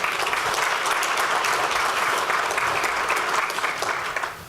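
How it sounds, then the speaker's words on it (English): Steady, full applause from a room of local community and business people at Facebook's 2018 Community Boost event in Springfield, sustained at an even level before tapering off at the end. "So just a quick round of applause for everyone in here."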